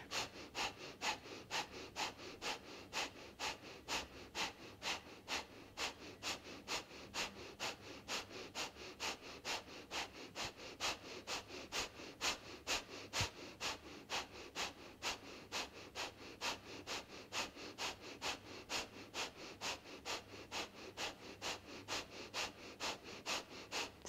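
Steady rhythmic breathing during a yoga sadhana exercise, soft nasal inhales and exhales repeating at a regular, fairly quick pace throughout, close and quiet with no talking.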